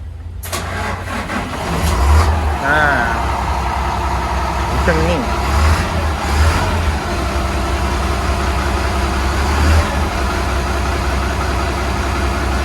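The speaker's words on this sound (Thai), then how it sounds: "ท่จริงเราวอร์มเครื่องรอแล้ว ก็เลย นะเร่งได้นิดหน่อยนะครับ" A ten-wheel concrete mixer truck engine, warmed up, rumbling deep and steady with a few short revs, while people talk nearby.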